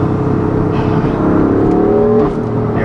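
The straight-six engine of a 2016 BMW M3 with DCT gearbox, mid-pipe and tune hums loudly and steadily from inside the cabin as the car pulls and accelerates, with a rising tone before a brief easing.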